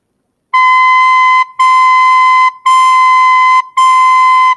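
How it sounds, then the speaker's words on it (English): Four sustained, steady whistle-like recorder notes at the same pitch, each about a second long, separated by short gaps. "So we are going to blow into the recorder 4 times."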